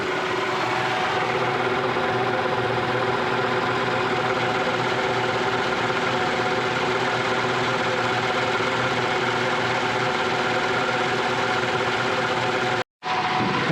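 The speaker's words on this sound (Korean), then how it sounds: "엔진 소리는 굉장히 정숙합니다." A 2012 Kia K9 3.8 engine idles with a low, steady hum and faint vibration, continuous and fairly close, cutting off abruptly near the end.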